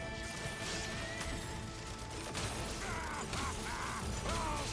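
A shattering skill effect in the video game Genshin Impact, heard as crunchy mechanical crashing and brittle breaking bursts over steady game music and ambience, loud and continuous.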